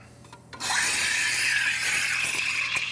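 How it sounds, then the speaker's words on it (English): Steam wand hissing into milk, a loud steady rasping roar that starts abruptly and holds, with a faint tearing, bubbling texture as foam forms. "you hear that stretching noise. That's the sound of foam being created."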